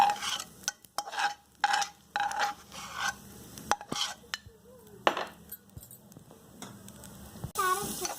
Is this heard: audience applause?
no